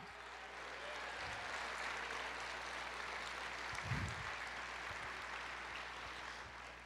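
Church congregation applauding together, a dense and steady wash of clapping that lasts the whole stretch without any voices breaking through.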